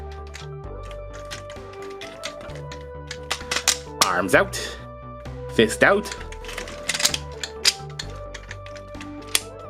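Plastic parts of a Hyundai Ioniq 5 Tobot X transforming toy car robot click and snap in scattered bursts as it is folded, close up, with a person talking throughout.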